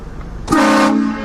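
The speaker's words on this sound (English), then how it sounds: "That's a loud horn, huh?" A loud car horn blasts suddenly as a prank, one sustained honk lasting under half a second before cutting off, with quieter background noise on either side.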